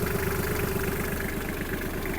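A Kubota KL-33 mini tractor's three-cylinder diesel engine idles steadily nearby, a low rhythmic chugging with a constant mechanical hum, no voices.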